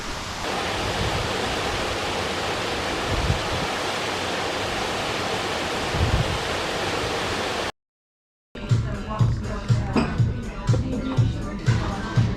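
A steady, rushing roar of falling water fills the first part, then cuts off abruptly; afterward voices and footsteps-like clatter follow.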